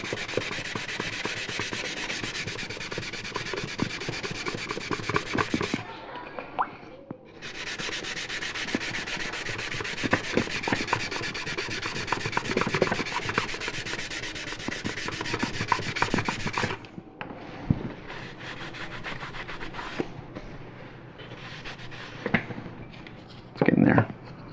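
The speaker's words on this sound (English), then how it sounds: "So we're just going to keep sanding this." Sandpaper rubbing steadily over a primed 1/8 scale model part, a dense scratchy rasp that pauses briefly twice, with quiet talk at times.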